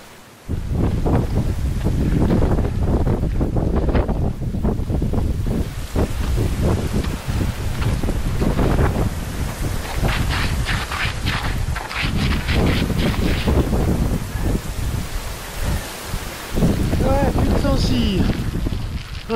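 Strong gusty wind roars across a snowy mountain summit during an ultra trail run, loud and blustering into the microphone, with a voice speaking at times and crunching steps.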